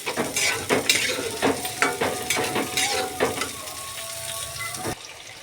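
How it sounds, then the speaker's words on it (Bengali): Potato curry stirred in a pan after water is added, a spatula scraping in quick repeated strokes over a wet sizzle, close and steady, easing near the end, no voices. "নাড়াচাড়া করে নেবো একটু, যাতে না তলায় এটা ধরে যায়।"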